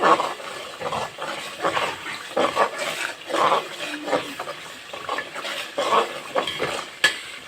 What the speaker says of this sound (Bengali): নিচ দিয়ে লেগে যাচ্ছে এজন্য একটু ভালো করে নাড়াচাড়া করে দিচ্ছি